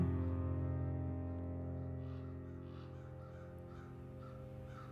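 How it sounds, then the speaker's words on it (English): Crows caw in a few faint, distant calls over a steady low hum that fades slowly across the stretch. "Wow, how about those crows?"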